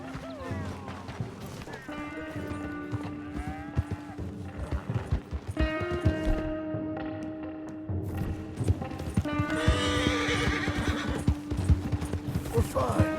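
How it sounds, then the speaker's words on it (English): Horse in Red Dead Redemption 2 whinnying loudly several times over rhythmic clip-clop hoofbeats, close and prominent, with game music or ambience underneath. "You can use that horse."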